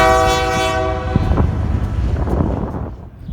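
BNSF freight tank train led by an ES44AC locomotive blasting its loud, chorded horn up close, then the horn cuts off as rumbling wheels and clattering cars roll past and gradually fade.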